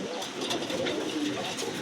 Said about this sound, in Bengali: প্রিয় দর্শক, এখানে 2টা কবুতর আছে